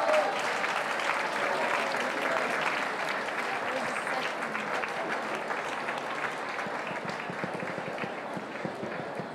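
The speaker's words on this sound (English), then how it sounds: "The crowd was going crazy." Audience at an award show for avant-garde fashion design bursts into sustained applause, dense clapping that starts strong and slowly tapers over several seconds, with some voices mixed in.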